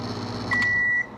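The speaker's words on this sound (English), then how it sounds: "It heats up, and there's a fan back there. You get a fan going." GE Profile sensor microwave oven running, its steady hum and fan whir filling the background, then a clear electronic tone sustained for about half a second before the noise settles back.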